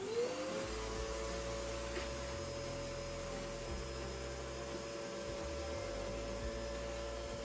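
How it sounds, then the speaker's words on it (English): A vacuum cleaner cleans a bathroom drawer, running with a steady droning whine at a moderate distance, its motor tone holding constant throughout. "So we just gave it a quick vacuum"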